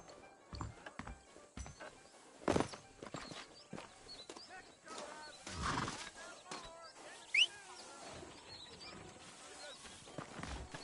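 Horse hooves clip-clop in the Western video game Red Dead Redemption, a soft uneven trotting rhythm mixed with game ambience and bursts of other sound effects, moderately quiet.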